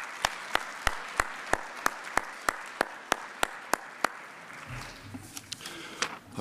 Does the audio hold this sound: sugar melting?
no